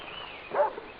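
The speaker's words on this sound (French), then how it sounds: "Pourquoi il aboie?" A dog named Brandy gives a single short bark at night, faint and somewhat distant, standing out briefly against a quiet background.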